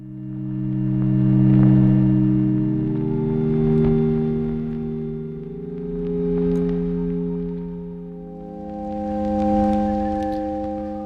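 A dark ambient synth texture, warm and low, swells and fades in slow waves. Reverb and mild distortion wash over the sustained tones, and no one speaks.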